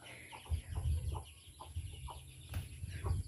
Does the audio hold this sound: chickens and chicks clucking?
yes